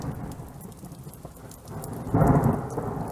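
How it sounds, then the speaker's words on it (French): Steady rain patters while a low rumble of thunder swells in the second half, growing louder before easing slightly. "L'orage n'est pas loin."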